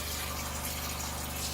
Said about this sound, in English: With the water pump turned on, and we just run it for a little while so you can smell the bleach.